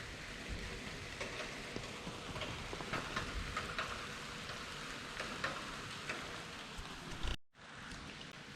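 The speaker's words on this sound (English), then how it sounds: "Much to enjoy the rain." Rain pours onto a small private garden in a steady, even hiss dotted with close drips and taps, fairly quiet, stopping abruptly near the end before resuming faintly.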